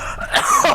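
A short, close cough or throat-clearing burst from a person in a casual conversation, loud and alone with no other talk over it.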